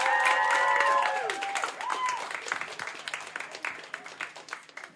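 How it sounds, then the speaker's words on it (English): An audience gives a final round of applause at a student union election results announcement, with loud clapping and a few whoops that gradually thin out, while a voice talks over the start. "A final round of applause for your disabilities officer"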